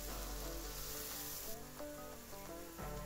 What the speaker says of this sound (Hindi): सो साथ ही हम दूसरी तरफ जो है प्याज को रख देते हैं फ्राई होने के लिए